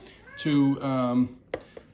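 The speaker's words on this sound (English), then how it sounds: "Oh, get the kitty cat. Kitty cat came up to help." A house cat meows close by indoors: two drawn-out, tonal meows in quick succession, followed by a couple of faint clicks and taps.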